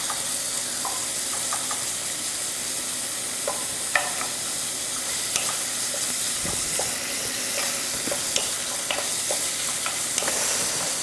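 Meat going into a hot pan and being stir-fried while making a single serving, a steady close sizzle and hiss with scattered light clinks and scrapes of stirring throughout, no voices.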